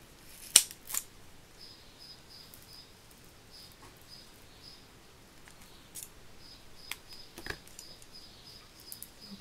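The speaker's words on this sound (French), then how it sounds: "je coupe tous les tampons que j'ai posés" Scissors snipping out mounted rubber stamps on foam, a few sharp close cuts early, then scattered light snips and rustles over a quiet background with a faint steady high tone.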